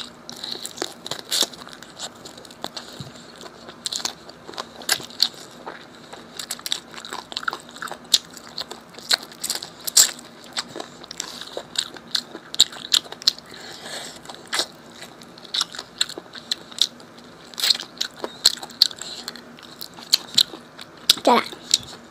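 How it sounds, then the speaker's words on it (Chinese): Braised chicken feet dusted with chili powder are chewed up close. Wet biting, crunching on tendon and gristle, and sucking sounds repeat steadily, with occasional talking in between. "我喜欢吃鸡爪里面那个筋。"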